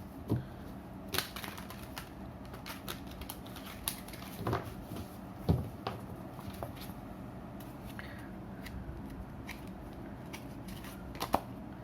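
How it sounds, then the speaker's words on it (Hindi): Tarot cards are shuffled by hand, producing light, irregular papery clicks and flicks spread across the stretch, with a few louder snaps over a quiet background and no speech. "कार्ड्स को शफल कर लेते हैं एक और बार।"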